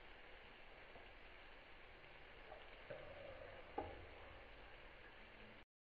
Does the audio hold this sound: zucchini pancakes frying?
yes